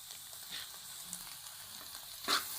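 Ginger garlic paste frying in a pan for egg fried rice, a soft steady sizzle with faint stirring scrapes and a brief louder flare near the end.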